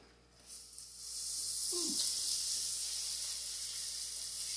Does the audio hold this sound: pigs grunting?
no